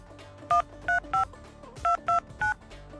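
A telephone number is punched in on a keypad, six crisp touch-tone beeps in an uneven sequence over a quiet room hum.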